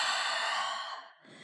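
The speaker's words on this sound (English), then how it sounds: "Take a deep breath in through your nose. And an audible exhale out." A long, steady breathy exhale during a yoga flow, loud and close, trailing off near the end.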